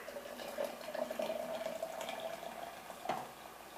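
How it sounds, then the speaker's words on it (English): Boiling hot water pours into a French press holding herbal coffee grounds with cinnamon, a faint, close trickle with a gurgling tone and a small splash near the end. "And I add some boiling hot water."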